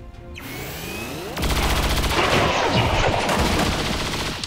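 A grenade going off in XCOM 2, heard as a sudden loud blast about a third of the way in that rolls into sustained rumbling, crackling debris and weapon noise until the end.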